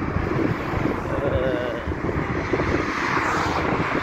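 A strong wind roars continuously in the open air of Riyadh, Saudi Arabia, buffeting the microphone with loud, steady broadband rumble that swells and eases slightly.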